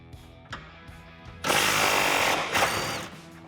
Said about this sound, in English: So let's grab a 13 millimeter socket, and we're going to remove these bolts.